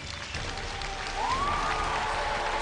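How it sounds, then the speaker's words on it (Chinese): Studio audience applause on a Chinese television dating and relationship show, a steady dense wash of clapping filling the whole stretch at moderate loudness, with a faint host or music tone gliding through the middle. "来，掌声有请"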